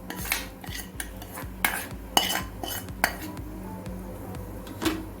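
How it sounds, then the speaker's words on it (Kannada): Vegetable fried rice stirred in a pan with a metal spoon, a run of close, irregular scraping clinks and taps against the pan over a low steady hum, with no talking. "ಚೆನ್ನಾಗಿ ಮಿಕ್ಸ್ ಮಾಡಿದರೆ ಫ್ರೈಡ್ ರೈಸ್ ರೆಡಿ"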